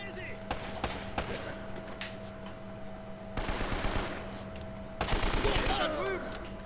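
Bursts of AK rifle automatic fire in the video game Uncharted: The Nathan Drake Collection on PS4, two sustained volleys ringing out over faint game ambience.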